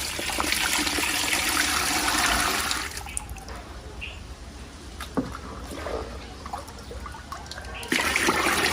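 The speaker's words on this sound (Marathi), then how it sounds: "आता ह्याच्यामध्ये मी पाणी ॲड करते" Water poured in a strong, steady gush into a 20-litre bucket of jeevamrut slurry, loud for the first three seconds, easing to a softer trickle, then surging loudly again near the end.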